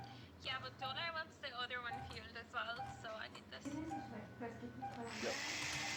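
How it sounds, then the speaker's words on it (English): A power drill in the Project Zomboid video game whirs in short bursts beneath ongoing talk, ending in a louder, sustained high-pitched drilling. "There's the drill."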